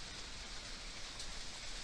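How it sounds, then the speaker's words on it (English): Steady rain falls outdoors near a corral, a dense, even hiss with no pauses and no voices. "but of course it's raining."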